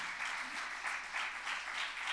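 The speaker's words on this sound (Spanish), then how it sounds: "Dale un aplauso al Señor" A church congregation claps together in steady, dense applause, close and loud throughout, with no voices rising above it.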